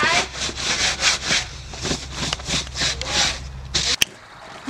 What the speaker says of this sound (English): We're coming through and scrubbing, and come around the outside.